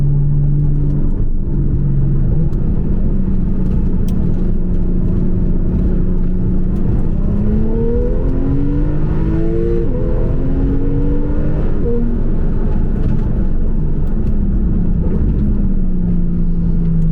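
A tuned Porsche 911 (991.2) Carrera S turbocharged engine with a Stage 2 upgrade rumbles heavily and revs up and down, its deep tone sweeping upward and settling, loud and close throughout.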